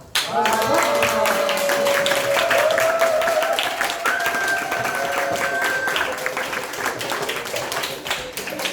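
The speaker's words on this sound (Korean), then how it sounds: "다시 한번 박수 부탁드립니다." Applause from a church congregation at a summer retreat after a presentation, dense and steady for the whole stretch, with a voice speaking over it.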